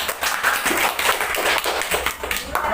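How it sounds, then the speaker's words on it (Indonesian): Clapping from a class of fifth-grade pupils in a classroom, applauding a group presentation; dense, uneven hand claps that continue steadily for a few seconds with no talk over them. "Tepuk tangan untuk kelompok 1."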